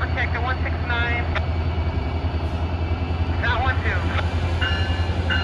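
An Amtrak Pacific Surfliner train 580 pulls out of Fullerton station, making a steady low rumble and engine drone throughout. A few brief squeals and tonal notes rise over the rumble.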